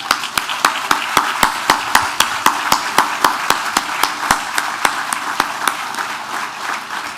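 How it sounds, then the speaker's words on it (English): Loud, evenly spaced clapping at a museum grand opening ceremony, sharp claps falling in a steady rhythm throughout. "Please join me in giving them a round of applause."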